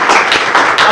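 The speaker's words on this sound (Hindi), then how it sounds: "बहुत बढ़िया, तालियां बजा दें आप" Schoolchildren clap in a classroom at a village government school: a brief, close burst of many overlapping hand claps, loud and even, lasting under a second.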